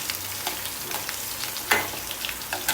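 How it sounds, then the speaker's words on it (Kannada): Ginger garlic paste sautés in a hot pan while donne biryani is being made, with a steady crackling sizzle and sharper spits and pops standing out now and then. "ಸ್ವಲ್ಪ ಹೊತ್ತು ಜಿಂಜರ್ ಗಾರ್ಲಿಕ್ಕನ್ನು ಸಾಟ್ ಮಾಡುವ"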